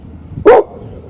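A single short, loud bark from a dog close by, sharp and alone against a quiet background.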